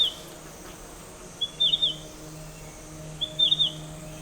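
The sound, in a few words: gray-cheeked warbler calling in forest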